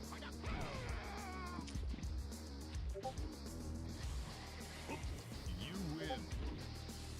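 A human voice imitates a cat, giving several drawn-out, wavering meows with pauses between them, fairly quiet and close, with some speech nearby.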